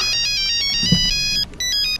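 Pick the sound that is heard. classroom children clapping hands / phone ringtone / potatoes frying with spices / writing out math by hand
phone ringtone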